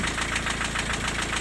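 Diesel engine with an intermittent knock, running steadily up close with a rapid, regular metallic tapping over a continuous low rumble and no voices.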